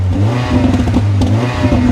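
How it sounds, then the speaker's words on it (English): A Mercedes-AMG GLA 45 idles with a loud, bubbly, throbbing burble and blips its throttle up briefly, heard close up with no one speaking. "Abhishek, would you be so kind or just simply rev this thing up for us once while it's idle right now?"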